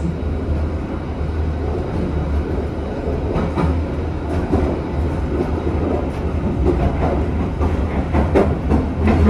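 Interior of the Jaka Tingkir economy passenger train running on rails, a continuous loud rumble with rhythmic clicks of wheels over rail joints and occasional rattles, steady throughout.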